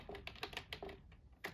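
Fast, close typing on a computer keyboard, a quick run of crisp key clicks with a brief pause before a final cluster of taps.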